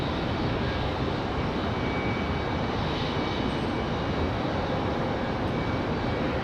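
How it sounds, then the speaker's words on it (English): An Alaska Airlines Boeing 737 MAX 9 from San Diego at Raleigh-Durham produces a steady, close jet roar, dense and unbroken from start to finish, with no talking. "The 737 MAX 9 from San Diego."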